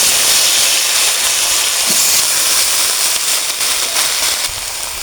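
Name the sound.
raw green banana sizzling in fish-frying oil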